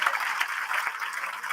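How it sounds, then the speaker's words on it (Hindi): Audience applause at a Hindi comic poetry gathering, a kavi sammelan: loud, continuous crowd clapping throughout, dense and close with no voices over it. "एक बार इस मंच के लिए भी जोरदार तालियां बजा दीजिए।"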